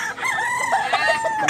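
A rooster crows loudly and close by, one drawn-out rising and falling call.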